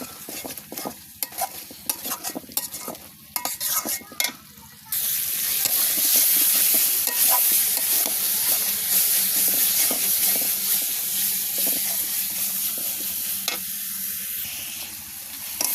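Spice masala is fried and stirred in a pot over a village clay stove on a rainy day before duck meat goes in. Several seconds of scraping stir strokes give way to a loud, steady close sizzle and hiss.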